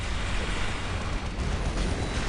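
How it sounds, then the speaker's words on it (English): A powerful explosion in the Warhammer 40,000: Dawn of War video game, a dense, roaring rumble that holds at full strength throughout with a heavy low-end boom and no clear break, and no voice over it. "Powerful explosion."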